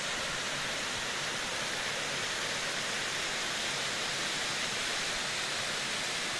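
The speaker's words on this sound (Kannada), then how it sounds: "ಫಾಲ್ಸ್ ಇದು" A forest waterfall at Tusharagiri roars as a dense, unbroken broadband rush of falling water, loud and close, filling the whole scene with no other sounds standing out.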